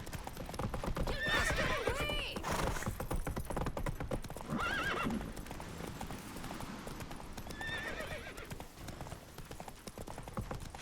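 Roach the horse galloping in The Witcher 3, with rapid rhythmic hoofbeats running throughout and several loud whinnies and neighs, close and prominent.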